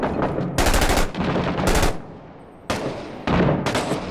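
Machine gun fire in the combat video game Six Days in Fallujah, loud sustained bursts of rapid automatic shots broken by short pauses, with no talking.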